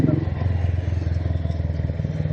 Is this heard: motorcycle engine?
yes